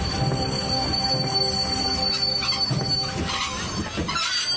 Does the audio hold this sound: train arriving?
yes